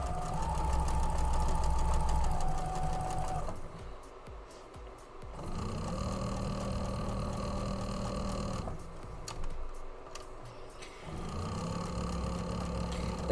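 A sewing machine stitches the last seam joining a quilt block, running in three long steady bursts with short pauses between, a close, even motor hum and needle chatter.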